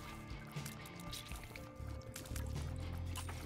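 The holy water item in The Binding of Isaac Repentance makes splashy, pouring liquid sounds. The effects are quiet and layered over busy game noise, and a denser burst comes in near the end.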